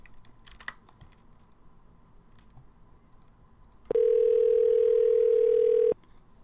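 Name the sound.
telephone dial tone when placing a call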